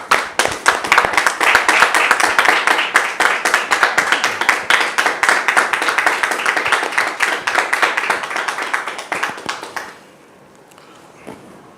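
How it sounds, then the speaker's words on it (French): An audience claps to welcome a guest, loud, fast and evenly paced, with many hands nearly in unison for about ten seconds before stopping abruptly, leaving a quieter room with a few scattered taps. "je vais demander à nos frères de nous aider à le recevoir. Avec vos applaudissements, s'il vous plaît."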